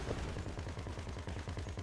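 Rapid automatic gunfire in GTA 5, a fast run of repeated shots lasting under two seconds at moderate loudness, with no talking.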